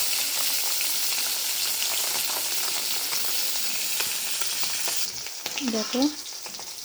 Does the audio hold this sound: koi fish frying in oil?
yes